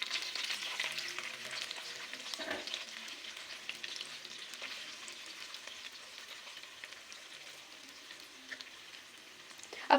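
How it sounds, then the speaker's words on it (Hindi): Marinated okra (bhindi) sizzles loudly in hot cooking oil, a dense crackling fry that starts strong and slowly eases over ten seconds. "अब हम अपनी भिंडी को फ्राई कर लेंगे"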